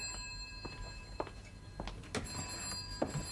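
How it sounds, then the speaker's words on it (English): A vintage telephone bell rings in short, repeated bursts in an indoor room in a 1969 television drama, fairly faint, with light knocks and movement in between and no talking. "will you answer the phone, please?"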